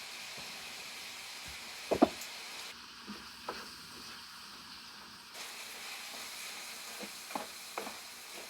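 A meat filling for stuffed bell peppers sizzles steadily in a pan, a close hiss broken by a few sharp clicks and scrapes from stirring.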